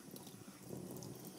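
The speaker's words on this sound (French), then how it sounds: "Là c'est le seau qui recueille l'eau." Water from a blocked kitchen sink trap drains into a bucket under the sink, a faint, steady trickling splash that continues throughout with no voices.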